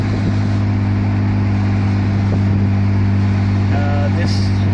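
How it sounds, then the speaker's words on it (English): A 1984 Toyota Celica Supra engine running smoothly, a steady, loud low-pitched drone with a strong hum that holds constant throughout, like cruising on a highway. "Engine is relatively smooth."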